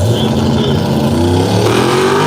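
A drag racing Ford Camaro on a hard tire revs loud and close, a steady roaring engine with rising pitch as the cars launch, dense and continuous with crowd noise mixed in.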